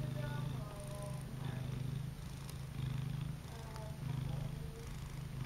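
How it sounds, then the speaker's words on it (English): A cat purrs up close in slow, rhythmic rumbling cycles, soft but continuous, with faint background noise. "he's just purring and purring and purring."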